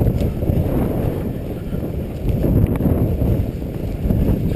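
Wind buffets a microphone outdoors during an airsoft game at a chemical plant site, a loud, continuous low rumble and roar with no clear voices.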